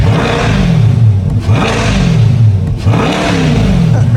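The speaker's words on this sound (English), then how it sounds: "we're gonna give it some revs" A 2024 Chevrolet Corvette 2LT Z51 convertible's V8 revs loud and close, with several rising and falling blips of throttle over a steady idle rumble and no talk.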